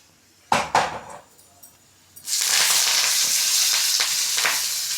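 Four dried red chillies hit hot oil with a few sharp clatters, then a loud, steady broadband sizzle sets in and carries on close up without any voices.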